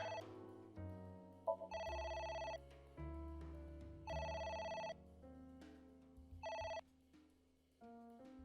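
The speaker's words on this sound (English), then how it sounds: "A phone." An electronic telephone ringtone from the video game AI: The Somnium Files plays in repeated melodic bursts, bright chiming notes over a synthetic bass line, steady and clear with no talk over it.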